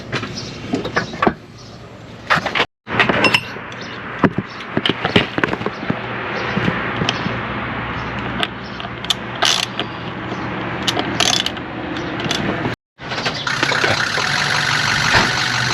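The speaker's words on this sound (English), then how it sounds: "That's a lot of weird sounds. It's glow plugs." Glow plugs on a 2006 Ford F350 diesel truck click and tick in a dense, busy mechanical chatter that runs almost without pause, broken by two brief silent gaps, with no voices.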